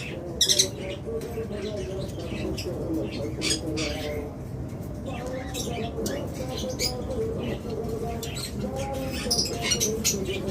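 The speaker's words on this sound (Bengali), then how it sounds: "হিউজ পরিমাণ লাভবাট রয়েছে দেখুন চমৎকার পেয়ার" Many lovebirds in pairs chirp and squawk together, a dense, continuous chatter of sharp calls close by, with a person talking over it.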